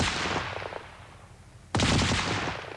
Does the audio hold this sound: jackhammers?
no